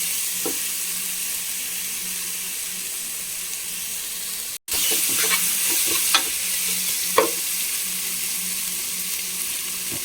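Mushroom biriyani masala being sautéed in a pan, with a steady sizzle and repeated scraping stirs from a spoon. A brief dropout falls near the middle, and the clattering stirs grow more frequent afterward. No one speaks.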